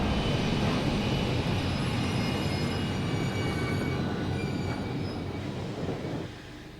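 A train rumbles steadily through the horror video game Post Trauma, a dense, loud rolling roar with faint high squeals from the wheels that eases off near the end.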